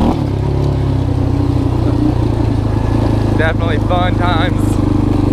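A Yamaha Warrior 350 ATV engine, freshly running after a carburetor rebuild, idles steadily and loudly close by throughout, with someone speaking briefly over it near the end.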